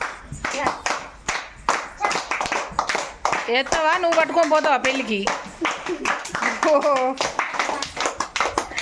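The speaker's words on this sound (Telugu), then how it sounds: "చప్పట్లు కొట్టాలి" People clap hands rhythmically during an indoor handkerchief game, sharp repeated claps mixed with lively overlapping talk and a voice.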